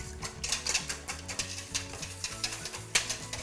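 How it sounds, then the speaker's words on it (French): A whisk or fork rhythmically beats a quiche filling of eggs, yolks, salt, pepper and nutmeg in a bowl, giving a quick run of close, clicking strokes against the bowl. "Vous mélangez votre préparation."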